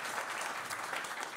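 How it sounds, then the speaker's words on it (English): Steady applause from a seated audience at a panel discussion on Ukraine's reconstruction, fairly quiet and even throughout, with no talking over it. "Big round of applause, please."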